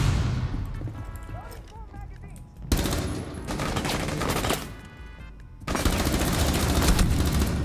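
Rapid gunfire bursts from the video game Rainbow Six Siege crackle in loud volleys, separated by short lulls, with in-game effects filling the gaps.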